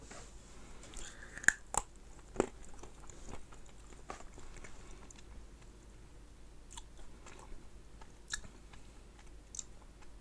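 Someone chews a lingonberry snack, producing faint, scattered crunchy bites and clicks at close range over a quiet background, with no talking.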